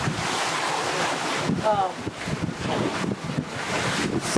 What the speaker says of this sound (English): Surfing down the waves at 10 knots, double reef, hardly any heady, and the engines are still down like a drogue, and we're still going 10 knots.